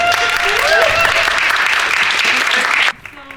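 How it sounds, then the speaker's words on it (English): An audience at a talk on art fairs and open cities breaks into loud, dense applause that holds steady for nearly three seconds, then cuts off abruptly into near quiet. "can we have some applause?"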